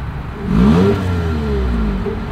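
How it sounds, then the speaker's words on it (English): Exhaust of a 2024 Toyota Corolla Cross revving up and settling back, a rising engine whir peaking briefly then holding at a steady idle-like drone, close and fairly loud with no talk. "As always, here is that exhaust clip."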